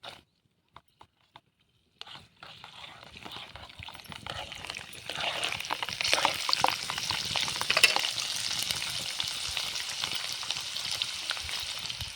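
Garlic, cumin and mustard seeds hit hot oil for a tempering: a few light ticks in near silence, then a rising, steady sizzle with fine popping that keeps going, close up, with no voices.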